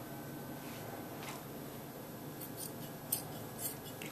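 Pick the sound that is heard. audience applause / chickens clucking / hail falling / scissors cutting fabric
scissors cutting fabric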